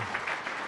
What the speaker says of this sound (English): I think we should all give our panelists a great round of applause.